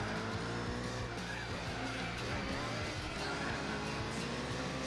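Race cars drive in Gran Turismo 4, including a Toyota GT1 and a Mercedes CLK, producing a dense, steady engine roar with tire noise throughout, loud and continuous.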